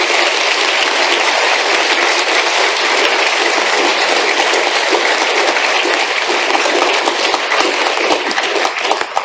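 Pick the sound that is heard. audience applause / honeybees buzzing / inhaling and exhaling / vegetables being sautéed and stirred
audience applause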